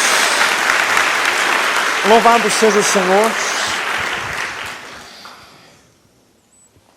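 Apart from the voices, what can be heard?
church congregation applause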